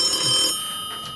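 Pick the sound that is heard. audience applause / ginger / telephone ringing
telephone ringing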